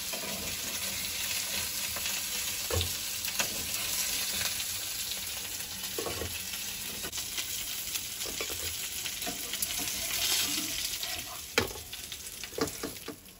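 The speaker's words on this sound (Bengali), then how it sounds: "মাছগুলো ভাজা হয়েছে," Pieces of katla fish fry quietly in a pan, a soft continuous sizzle broken by scattered clicks and taps of a utensil that grow more frequent toward the end.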